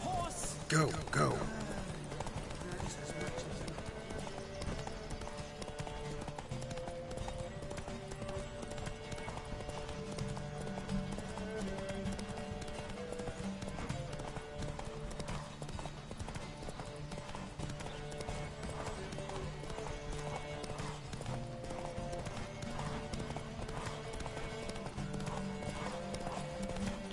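Horses gallop in a race in the video game Witcher 3, a steady drumming of hooves with a faint neigh, under continuous game sound and occasional voices.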